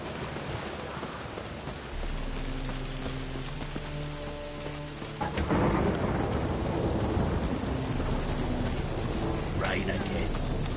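Steady rain and a rumble of thunder in The Witcher 3 game world, a constant wash of rainfall that grows heavier midway as a deep roll of thunder breaks in, with faint musical tones and scattered voices underneath.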